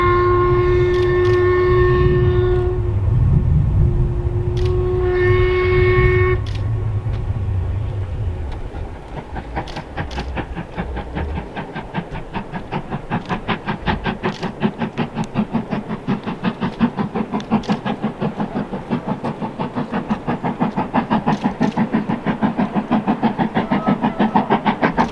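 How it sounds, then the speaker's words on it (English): A train crosses a viaduct in the Scottish Highlands, opening with a sustained tonal whistle sounding twice, then a long run of rhythmic clickety-clack wheel beats over the rail joints, steady and fairly close as the carriages pass. "it's just a train going past"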